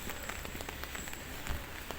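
Steady rain falls on roads and lanes at a construction site in Spain, a continuous hiss with scattered drops and small taps spread evenly, fairly close and unbroken, with no voices.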